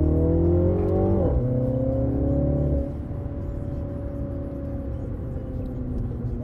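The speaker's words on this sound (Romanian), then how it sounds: "Facem și un launch control." A Mini Cooper John Cooper Works pulls away under launch control. The engine roars loudly and close, its pitch climbs, drops sharply at a gear change, then settles into a steady strained drone.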